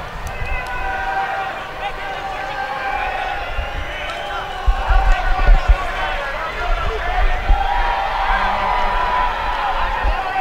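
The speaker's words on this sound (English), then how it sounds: "the fire squad cheering for the substitution due to the man bun" The Fire Squad supporters' group cheers a substitution at a Fresno Fuego versus FC Golden State Force soccer match: a steady, dense wash of crowd voices and shouts with scattered thumps, holding fairly loud throughout and swelling slightly midway.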